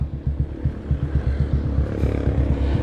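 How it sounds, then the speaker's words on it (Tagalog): A tricycle motorcycle engine idles while warming up, close and steady, with a low, rhythmic throbbing putter pulsing several times per second and no one speaking. "pinapainit ko na lang yung makina niya"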